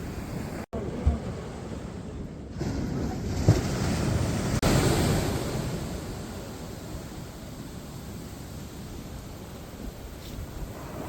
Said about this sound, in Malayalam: കടൽ അതിശക്തി ശക്തിയായിട്ട് അടിച്ചുകൊണ്ടിരിക്കുകയാണ് ഇതാ തിരമാല നമ്മുടെ കാലിഞ്ചോട് വരെ എത്തിയിട്ടുണ്ട്